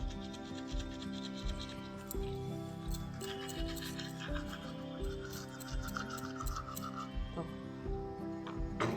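A child brushing his teeth in the morning at home makes steady, close scrubbing and rubbing strokes with a toothbrush, repeated rhythmically throughout, with household sounds and a faint background tone.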